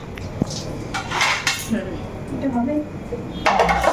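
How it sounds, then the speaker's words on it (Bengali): A plate clinks against a dish as it is set over marinated parshe fish in a home kitchen, a few light ceramic knocks and scrapes with someone talking throughout. "একটা প্লেট দিয়ে ঢাকা দিই"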